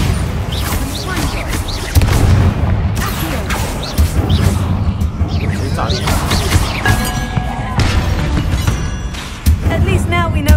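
A Bombarda spell explosion in Hogwarts Legacy inside a tomb: heavy booms and crashing impacts recur among rumbling game sounds, with voices speaking at points.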